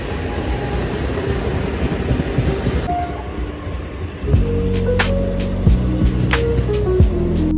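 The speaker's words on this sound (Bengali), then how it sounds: "আমাদের ট্রেনটা এখন বিধাননগর ঢুকছে" Local train pulling into Bidhannagar station, a steady rumbling roar of rail wheels with rhythmic clacks and squealing brake tones rising in the second half, close and loud throughout.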